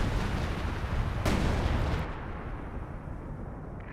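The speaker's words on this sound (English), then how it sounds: "Another artillery barrage being brought on in." Artillery barrage in the World War II strategy game Company of Heroes 2: a dense, rumbling wash of distant shell impacts with one sharp blast near the middle, fading to a softer rumble.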